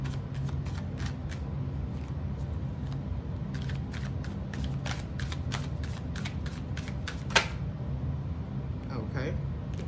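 A deck of tarot cards being shuffled, rapid, crisp riffling flutters in repeated bursts over a low background hum, with a sharp snap near the end and some speech mixed in.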